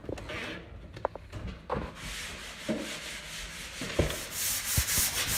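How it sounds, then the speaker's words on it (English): Rough, rhythmic rubbing of sandpaper on wooden stairs, near and moderately loud, with occasional knocks and scrapes between strokes. "We're gonna be sanding up the stairs today."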